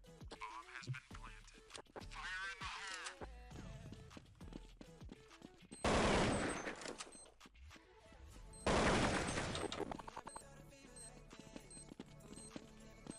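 Counter-Strike 1.6 gunfire in a public match: scattered single shots and rattling bursts, with two loud sustained automatic bursts standing out over the clatter of the game.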